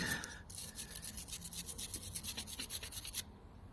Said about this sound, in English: toothbrush, give it a good scrub